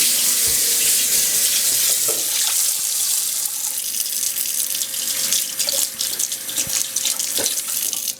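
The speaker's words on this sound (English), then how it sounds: "right now we're going to go wash our tablespoon" A tablespoon is rinsed under a running kitchen tap, the steady rush of water splashing into a sink close by with small clinks, and no talk.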